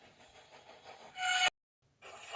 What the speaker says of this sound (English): He blew an extra long whistle.